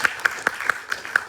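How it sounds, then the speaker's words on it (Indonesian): Audience applause for the moderator at a mini seminar: a short run of evenly spaced claps, about four per second, fairly close and moderately loud with no talking. "Boleh tepuk tangannya untuk kalian sebagai moderator"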